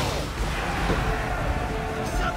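Dense, continuous rumbling booms from ship cannons in Assassin's Creed III, layered with crackle and low thuds, loud and sustained throughout.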